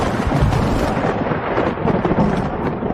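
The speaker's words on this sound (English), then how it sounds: "That night the storm broke with a clap that shook the walls of my room." Thunder breaks in a storm as a loud, continuous, heavy rumble that fills the whole stretch without pause.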